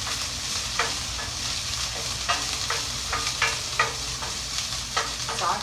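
Garlic, scallions, thyme and sage sauté in a pan for vegan vegetable pasta, giving a close, steady sizzle with regular spatula scrapes every half second or so.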